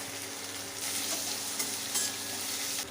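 Garlic, ginger and green chillies fry in a hot pan of oil with a steady, close sizzle that swells louder after the first moment, and occasional stirring clicks come through. No voices.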